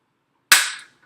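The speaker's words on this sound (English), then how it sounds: "it'll snap, and you'll hear that click when it goes over." A single sharp, bright snap rings out once after silence, quickly decaying, like a hard plastic piece clicking into place.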